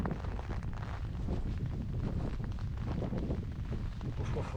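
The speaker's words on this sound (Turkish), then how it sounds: "Rüzgar da var arkadaşlar. Yağmur da yağıyor." Wind blowing steadily outdoors with a constant hiss that could be rain, a dense noisy wash with faint talk underneath.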